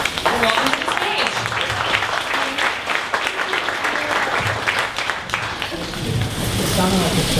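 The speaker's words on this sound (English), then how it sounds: "So please, everyone, give a big round of applause and get on your feet." An audience at a startup pitch event gives loud, sustained applause, a dense roar of many hands clapping that swells again near the end.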